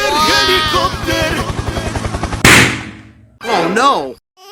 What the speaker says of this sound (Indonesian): Helikopter, helikopter!